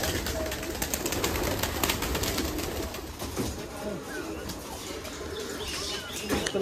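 Domestic pigeons in a pigeon loft on a farm at morning feeding time, soft cooing and bursts of flapping wings close by over a steady background murmur, without clear speech.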